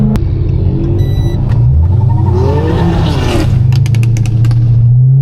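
A Dodge Hellcat's engine rumbles loud and close from inside the car while driving, a steady deep drone that swells and revs briefly midway, with scraping and rattling around it.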